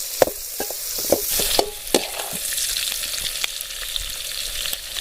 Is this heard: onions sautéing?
yes